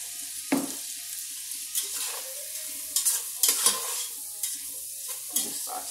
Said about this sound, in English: Just saute it for a few minutes.